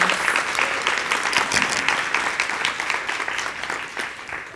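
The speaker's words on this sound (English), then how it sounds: "Can I get another round of applause for our young poet," An audience claps warmly for a young poet after a reading, dense applause that holds steady and then gradually thins and fades toward the end.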